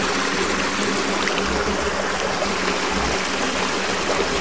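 Water pours steadily from the drain valve of a spring-fed pond, a continuous close hiss and splash that keeps an even level throughout.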